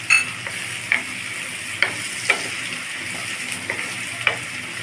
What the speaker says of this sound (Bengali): পেঁয়াজগুলি 8 থেকে 10 মিনিট নেড়ে চেড়ে নেওয়ার পর বেরেস্তাটা হয়ে গেছে